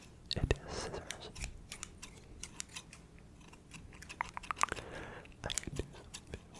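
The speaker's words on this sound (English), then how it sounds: "I really like scissor sound." Scissors snip in a quiet, close whispered ASMR setting, with sharp little clicks and cuts scattered across the clip beside soft rustles and faint whispering.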